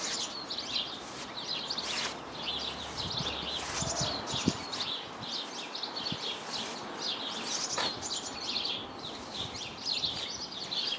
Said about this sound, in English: I'll leave the tweeting sparrows to entertain you a bit here.